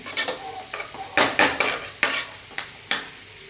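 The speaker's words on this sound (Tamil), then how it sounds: "மசாலாவோட நல்லா கிண்டி விட்டுட்டு" A utensil scrapes and knocks against a pan in quick irregular strokes while masala sizzles faintly underneath, close and clear.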